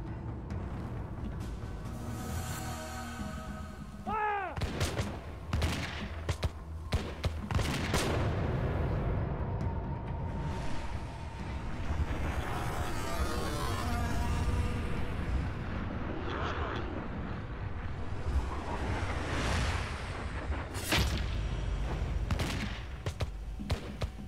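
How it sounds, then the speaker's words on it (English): Musket volleys crack and boom through a staged battle scene, several sharp shots and bursts layered over a dense, continuous roar of dramatic music and noise, loud throughout with muffled voices mixed in. "Prince Estabrook is hit in the first volley"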